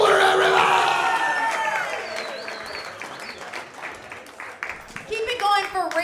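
A comedy club crowd at a stand-up show bursts into loud applause, whoops and cheers for the next comedian. The noise swells at first, thins to scattered clapping, then surges again near the end, with a host's voice mixed in.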